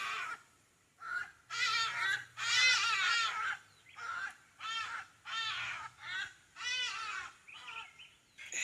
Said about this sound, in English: We love our birds.